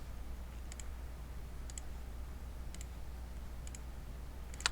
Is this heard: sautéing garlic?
no